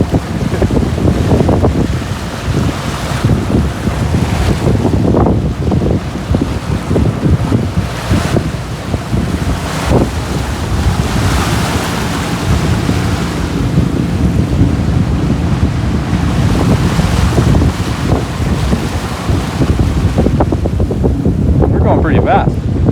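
A pontoon freight barge speeds across open water, with loud, steady rushing wind buffeting the microphone and water churning and foaming under the bow throughout.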